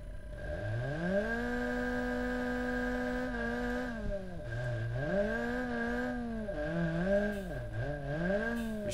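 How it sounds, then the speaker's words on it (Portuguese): A lowered Fiat Uno Turbo's engine in the BeamNG Drive driving game holds a steady high rev, then drops and surges repeatedly in uneven revving bursts, loud and close with no talk. "Tá arruinando o motor do carro já"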